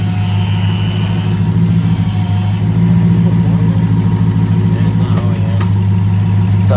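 A running Hemi 300 engine with a new power steering pump holds a steady, loud idle hum, and a thin whine rides over the drone throughout.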